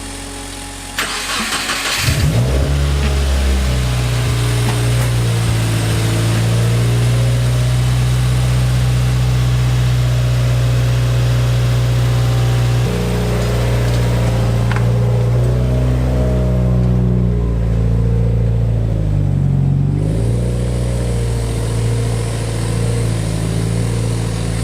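A Subaru WRX engine starts with a sharp crank, then runs steadily with a low droning hum, rising and falling slightly as the car drives off.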